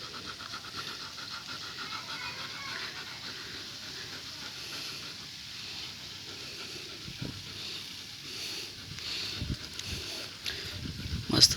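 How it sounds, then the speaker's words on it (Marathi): A golden retriever pants heavily and rhythmically outdoors in cool air, faint and steady, with a few louder bumps toward the end. "बघा, तिथं श्वासोश्वास किती"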